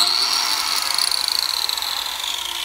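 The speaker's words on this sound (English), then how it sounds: "the grinder started off with slow speed and worked up" A Makita 6-inch grinder with controlled soft start spins up gradually to speed, its high whine rising and then holding steady, close and loud with no talking.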